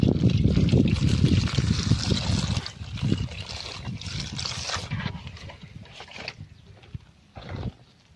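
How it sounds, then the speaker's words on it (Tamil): Water pours into a biryani pot during outdoor village cooking, a steady splashing gush that gradually thins and softens, ending with a few faint dribbles. "தேவையான அளவு தண்ணி"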